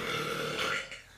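A single long, loud burp rumbles close up, holding for most of a second before trailing off, with no talking over it.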